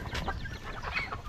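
Chickens and chicks clucking close by in a Philippine backyard, a busy overlapping chatter of short clucks and thin peeps over about a second, fairly soft, with no talking.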